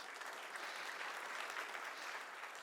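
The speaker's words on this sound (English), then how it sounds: "I think this is worth an applause. Please give me a hand." Steady applause from a symposium audience fills the whole stretch, a dense even patter of many hands with no voices standing out.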